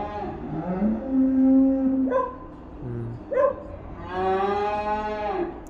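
Cattle on a South Korean cattle farm, standing in a dung-covered barn, give three loud, drawn-out moos close by, with short pauses between them.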